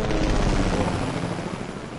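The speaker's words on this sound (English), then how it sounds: "Helicopter's coming to get it." A helicopter in a video game approaches with a steady, loud, low rotor roar that fills the whole clip.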